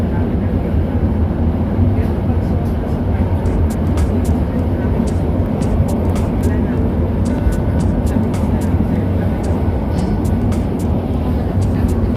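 A Manila LRT light rail train rumbles steadily from inside, low mechanical drone with intermittent high metallic squeals and clicks throughout.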